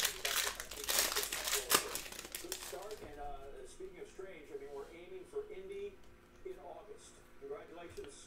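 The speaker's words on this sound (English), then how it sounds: "Let's rip these guys open first." Cellophane-wrapped packs of 2019-20 Panini Mosaic basketball trading cards are torn open, with sharp loud crinkling and ripping bursts for a few seconds before fading into softer rustling and card handling.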